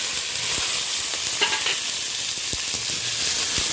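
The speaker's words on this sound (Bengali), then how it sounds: "এই পর্যায়ে আমি কেটে রাখা টমেটো, কেটে রাখা পেঁয়াজটা দিয়ে দেবো।" Chopped tomato and onion hitting hot spiced oil for a katla fish curry, a loud steady sizzle and hiss throughout with a few sharp pops and faint stirring clatter.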